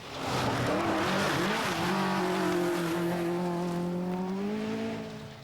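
A rear-wheel-drive Ford Orion rally car races along a special stage in the 1988 British National Rally Championship, its engine loud and close, holding a strained, rising note with tyre squeal through the run.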